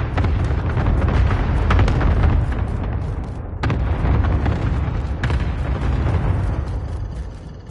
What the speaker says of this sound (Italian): Con tutte ste boom, non si sentono i passi giù a Nuzzo